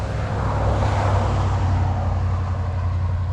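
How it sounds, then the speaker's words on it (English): Traffic on a busy rural road where deer often get hit, a continuous low roar of vehicles passing at a distance, with a broad whoosh that swells and eases, no voices. "So you can hear it's a pretty busy road."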